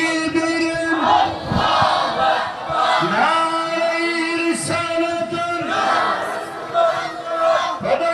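A large crowd gathered at a religious gathering roars back in unison after the Nara-e Takbir call, loud sustained shouting in several swelling waves with no single voice standing out.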